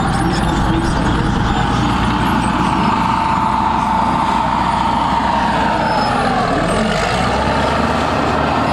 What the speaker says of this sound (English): it is a very successful and popular wheeled armored vehicle within NATO